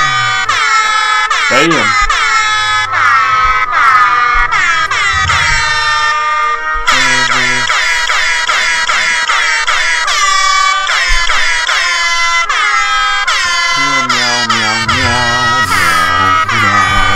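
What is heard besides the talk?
air horn sound effect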